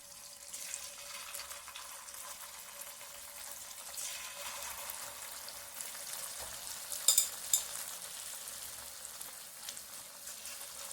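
Cauliflower pakoda frying in hot oil, a faint, even hiss of bubbling throughout with a couple of brief louder crackles near the end, no voices.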